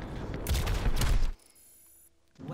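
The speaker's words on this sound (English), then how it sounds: "Something was shooting me in the back." Rapid burst of gunfire aimed at the player in a video game skirmish, a loud volley of shots lasting about a second, then cutting to near silence with faint tones before noise returns.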